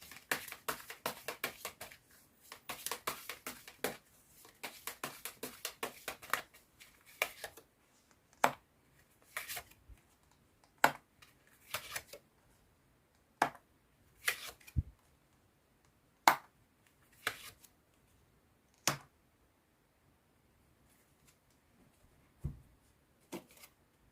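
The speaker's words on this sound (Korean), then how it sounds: "주별로 자세한 조언의 메시지 카드도 뽑아보도록 할게요" Message cards for a reading being shuffled and drawn, heard as a quick run of soft card flicks and riffles at first, then separate sharp snaps and slaps at uneven intervals, close and fairly quiet, with no talk.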